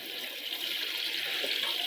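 Water runs steadily into a Hippo Super Hippor 12kg twin tub washing machine as it fills, a continuous hiss with a faint knock near the end.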